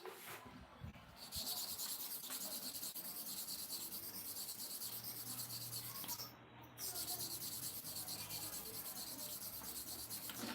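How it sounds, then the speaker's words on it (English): Steady, continuous abrasive rubbing of a taper clipper blade being sharpened, a dense, even rasping texture running nearly the whole time, broken by one brief pause near the end. "So let us sharpen for the tapper clipper blade."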